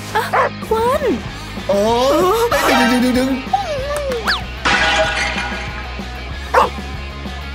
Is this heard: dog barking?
yes